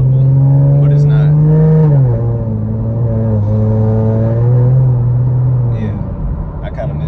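A Ford Mustang GT engine drones at a steady, loud pitch, then drops as the revs fall and settles into a lower hum, heard from inside the car.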